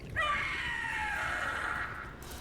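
Gloomhowler creature in Dragon Age: The Veilguard letting out a long, shrill, wavering scream, loud and close, holding for about two seconds before trailing off.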